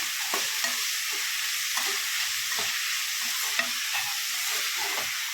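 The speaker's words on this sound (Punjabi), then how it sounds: "ਪਿਆਜ਼ ਨੂੰ ਚੰਗੀ ਤਰ੍ਹਾਂ ਭੁੰਨ ਲਿਆ ਤੇ ਲੋ ਜੀ ਨਾਲ ਹੀ ਪਾਵਾਂਗੇ ਮੂਲੀ ਦੇ ਜਿਹੜੇ ਪੱਤੇ ਸੀ ਆਪਾਂ ਲਏ" Onions and radish leaves fry in a pan with a constant hissing sizzle, broken by scattered soft stirring scrapes, close and steady with no voice.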